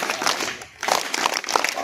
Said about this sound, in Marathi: अगदी बरोबर, यासाठी टाळ्या होऊन जा सगळ्यात।